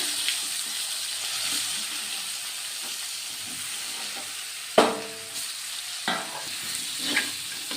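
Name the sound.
pointed gourd (potol) frying in a pan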